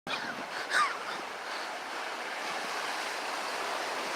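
Ocean surf washing steadily over rocks along the shore, a continuous broad rush with a brief louder swell near the start, close by with no talk.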